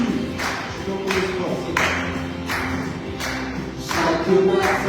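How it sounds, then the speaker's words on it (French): A church congregation claps in rhythm during a French worship song, sharp, loud handclaps in a steady beat over singing and music. "On applaudit."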